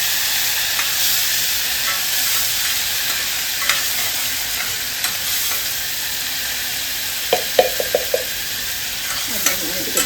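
Ginger, onion and garlic fry in a pan alongside potato for an egg curry, a steady loud sizzle with occasional utensil clinks and scrapes near the end.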